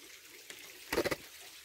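Water in a small, shallow natural rock pool at Las Tinajas, Coínco: a brief burst of splashing and trickling, fairly close, after a faint tap, then quiet background.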